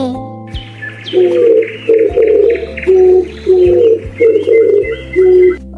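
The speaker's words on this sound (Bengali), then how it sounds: "ঘুঘু পাখি ডাকছে ডালে।" A dove perched on a branch coos in a steady run of short, soft repeated notes, clear and close, over a quiet musical backing.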